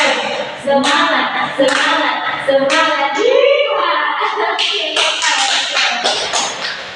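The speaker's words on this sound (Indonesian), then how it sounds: "Satu kali tepuk semangat, dua kali tepuk semangat, tiga kali tepuk semangat, semangat" A class in an Indonesian micro-teaching lesson doing rhythmic spirit claps, loud close sharp claps in short patterned bursts alternating with children's chanting voices.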